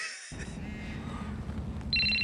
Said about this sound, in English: the constant phone ringing too